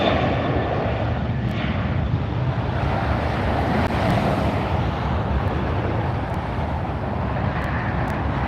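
A Southwest Airlines plane taking off from LAX bound for Las Vegas, a loud continuous jet engine roar heard near the runway with wind buffeting the microphone, no speech.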